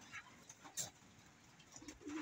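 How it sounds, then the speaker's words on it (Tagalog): Soft, low pigeon cooing in the background among faint rustling, quiet and somewhat distant. "Yan, ganyan ang buhay ibon ni Daddy Tutan"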